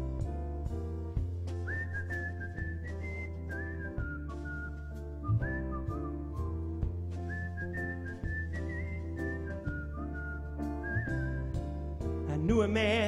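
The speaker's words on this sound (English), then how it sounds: "Can anybody do the whistle?" A person whistles a melody, clear sustained phrases over a steady guitar accompaniment with regular low strums, the tune repeating in gentle rising and falling lines.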